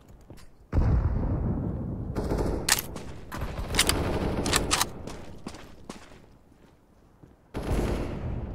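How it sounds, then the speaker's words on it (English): Counter-Strike: Global Offensive grenade action on Dust2, with loud sharp gunfire-like bursts and blasts crowding the middle seconds, a sudden heavy onset near the start and another loud hit at the end, no talk. "I'm throwing a grenade."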